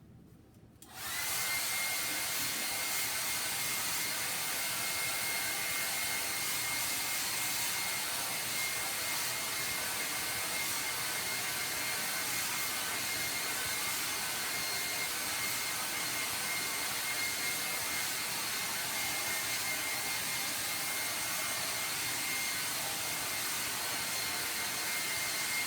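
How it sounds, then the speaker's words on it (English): A hair dryer blows steadily on a freshly painted snowman picture, a loud, constant whooshing hum that starts abruptly after a click and runs unbroken, alone with no talking. "I'm going to go blow dry"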